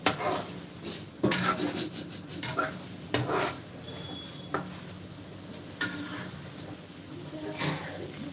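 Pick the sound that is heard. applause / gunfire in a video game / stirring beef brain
stirring beef brain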